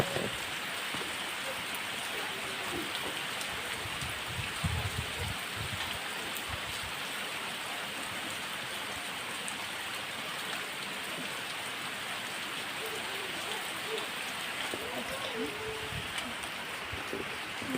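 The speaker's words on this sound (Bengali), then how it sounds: "দাম অনেকটা দেখুন মিটারে কীভাবে বৃষ্টি হচ্ছে" Steady rain pours down outdoors in a continuous even hiss, with a few low bumps of nearby handling early on and no talk over it.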